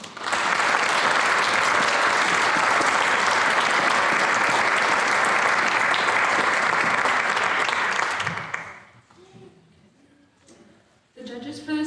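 An audience at a youth awards ceremony breaks into loud, sustained applause for about eight seconds before it fades out and a voice begins speaking.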